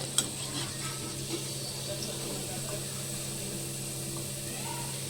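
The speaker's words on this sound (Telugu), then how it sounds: "చూడండి ఈ కలర్లో వేయించుకోవాలి" Sweet corn vada frying in hot oil, a faint, steady bubbling sizzle that holds evenly throughout with a small clink near the start.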